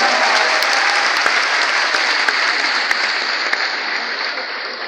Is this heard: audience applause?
yes